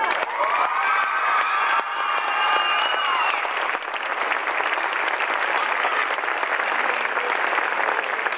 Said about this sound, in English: Give them a round of applause one last time.